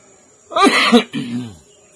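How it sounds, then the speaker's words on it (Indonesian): Two short rough bursts, a throat-clearing cough followed by a second lower cough, close and fairly loud against near silence. "Batuk-batuk tang."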